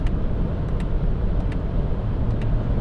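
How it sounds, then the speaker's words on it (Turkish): Wind roar inside a Toyota Yaris 1.5 hybrid cruising at 160 km/h, a steady broadband rush under road and engine drone with faint clicks, no speech. "160'lı rüzgar sesi bayağı var tabi."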